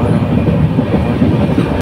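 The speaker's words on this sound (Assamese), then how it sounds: "আমি যিখন ট্ৰেইনত যাম সেইখন ট্ৰেইনৰ আগত এইখন ট্ৰেইন আহিছে।" A train pulls into a station with a loud, close, continuous rumble and rattle of wheels that runs steadily and then cuts off abruptly.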